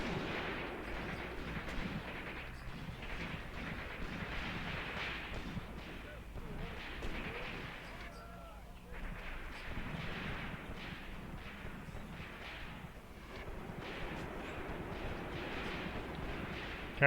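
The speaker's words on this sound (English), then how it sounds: "the machine gunner here is giving covering fire while my guys close in" Machine gun covering fire in the WWII game Graviteam Tactics, Kharkov 1941: steady, dense battlefield gunfire and distant artillery-like booms run continuously, with a brief lull midway, under a talking voice.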